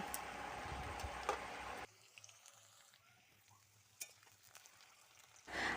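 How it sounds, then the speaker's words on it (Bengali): Potatoes frying in oil for a rui fish kalia, a bright crackling sizzle that cuts off abruptly, leaving near silence with a few light ticks, then returns at the end. "আলুগুলোকে আমি ভালো করে ভেজে নিচ্ছি"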